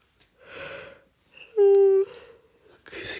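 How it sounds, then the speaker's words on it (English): A person yawns aloud late at night, with a breathy inhale, a strained tonal peak in the middle and a breathy release, close and fairly loud with no speech. "Excuse me, I'm yawning a lot."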